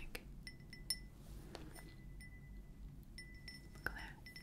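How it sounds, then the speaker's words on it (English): A glass object gives two light, close clinks, each ringing briefly, in an otherwise hushed room with faint soft background noise. "Look at that glass sound."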